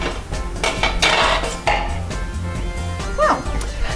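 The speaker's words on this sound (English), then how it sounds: "We're going to get a lid on it." A metal lid set onto a cooking pot: a clinking clatter of lid against pot over a steady loud sizzle and background kitchen noise, with no clear talk.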